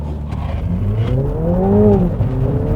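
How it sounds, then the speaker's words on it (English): A Mini GP3 launches hard from a standing start, its engine note sweeping upward steadily and loudly over a few seconds with no voices. "It's actually a pretty good launch."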